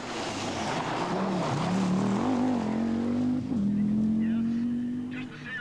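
A Vauxhall Astra 200 rally car at the 1988 Circuit of Ireland, its engine note climbing through gear changes as it passes close and loud, with a commentator talking over it.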